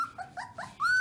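Little goldendoodle puppies making short rising whines and yips, several brief bursts in close succession, the last one longer and louder, heard close with no talking.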